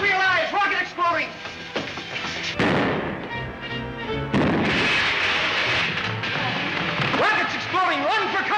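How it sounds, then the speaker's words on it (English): A rocket exploding as a sound effect in a 1930s science-fiction radio serial, heard as sudden loud bursts and crashing blasts that break in between excited spoken dialogue. "Rockets exploding, run for cover!"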